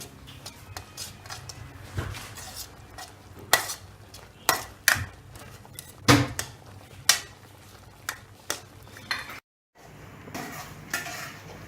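A spoon scrapes and taps against a pan while stirring vegetables, capsicum and boiled pasta in white sauce, with a faint sizzle underneath; irregular sharp clinks and scrapes repeat close up, one brief silence near the end.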